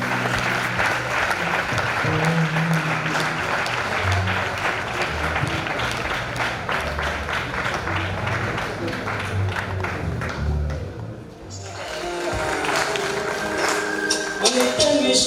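Sustained applause rises from a concert audience for a gospel group at a Christian music event, dense clapping throughout with a brief dip near the end before it swells again.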